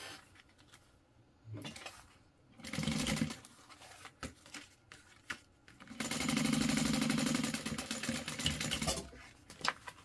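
A sewing machine stitches up both sides of a crossbody bag, with two sustained bursts of rapid mechanical whirring, a short one and a longer one, separated by quieter handling clicks and fabric rustling.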